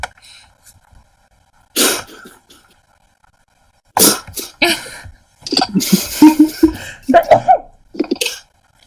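A single loud, close sneeze, followed by a brief pause and then people talking.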